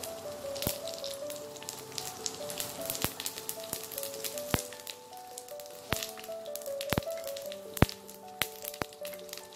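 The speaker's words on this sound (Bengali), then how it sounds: "এবার এতে আমি তেজপাতা, জিরে আর শুকনো লঙ্কাটা দিয়ে দেবো।" Bay leaf, cumin and dried chilli sizzling in hot white oil for Odia moong dal dalma, a soft continuous crackle with frequent sharp pops, faint and close, no talk.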